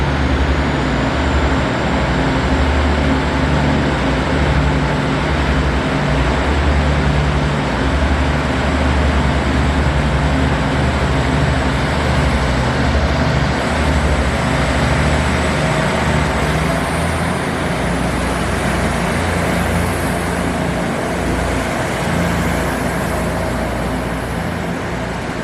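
A TRA DRC1000 diesel railcar on a branch line produces a loud, steady engine drone with a high thin whine above it. The sound holds close and constant throughout, with no talk.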